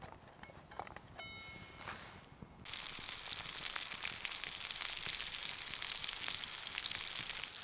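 Off-grid potatoes sizzling in a pan over a campfire at a winter riverside camp, a soft crackle that jumps into a loud, steady hiss partway through and continues to the end.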